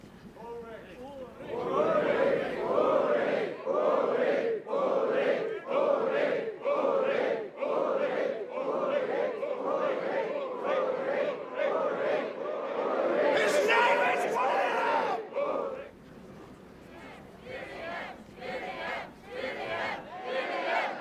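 Medieval jousting crowd in a film scene, many voices shouting and jeering in rhythmic chant-like bursts, loud and close, fading to scattered calls near the end.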